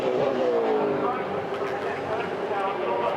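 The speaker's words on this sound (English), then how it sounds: "8 cars have just pulled into pit lane" 2007 V8 Supercars race cars pull into pit lane at Eastern Creek Raceway, their engines burbling and revving in a loud, sustained mix of several cars, with commentary voices talking over them.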